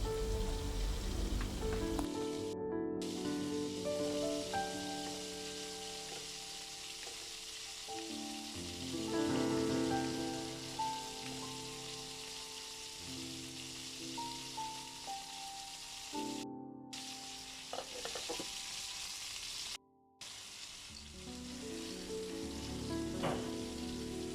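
Finely chopped onions frying with salt in a pan of oil left over from frying chicken, giving a soft, continuous hiss much like rain, with occasional stirring scrapes and no talk.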